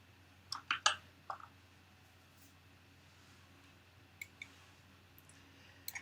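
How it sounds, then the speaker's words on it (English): Mechanical keyboard clicking during a conference talk: a short burst of sharp key clicks, a pause, then a few scattered taps over a faint room hum. "I do use a mechanical keyboard"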